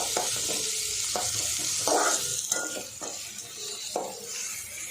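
Steady sizzling of onions sautéing in a pan, with a spatula stirring and scraping at intervals; no voices.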